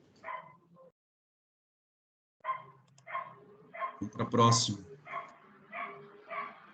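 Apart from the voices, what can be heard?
dog barking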